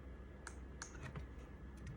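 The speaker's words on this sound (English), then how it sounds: "Now I need the keyboard because the keyboard on this stupid thing doesn't work." Keys on a computer keyboard tapped in a short irregular burst of clicks, fairly close and moderately loud over a low background hum, with no talking.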